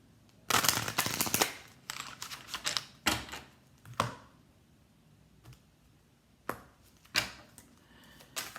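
Bursts of crisp, rapid clicking and riffling as tarot cards are shuffled, in several separate spurts with short quiet gaps between them, close by.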